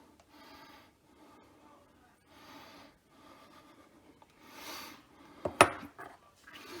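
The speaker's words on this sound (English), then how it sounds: "With a fork, you're just gonna mix it just enough for the butter to coat the crumbs" A fork scrapes and clinks against a bowl in short, quiet bursts as Snickerdoodle cookie crumbs are stirred into melted butter, ending with a sharper knock.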